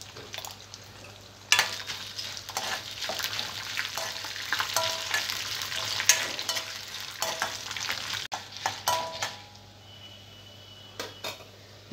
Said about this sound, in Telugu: శనగపప్పు కొద్దిగా ఫ్రై అయిన తర్వాత ఎండుమిర్చి, జీలకర్ర వేసుకోవాలి